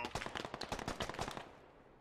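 Rapid automatic gunfire in the military shooter game Squad, a burst of about a dozen sharp cracking shots over a second and a half, fairly quiet and distant, then fading out.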